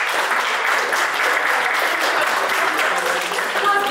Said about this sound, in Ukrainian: Привітаємо оплесками!